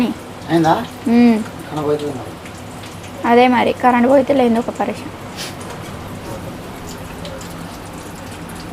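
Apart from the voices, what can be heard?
rain falling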